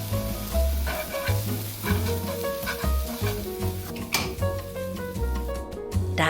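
Yakisoba noodles stir-fried with seasoning in a hot pan sizzle steadily while a utensil tosses and scrapes them in repeated rhythmic strokes, under background music.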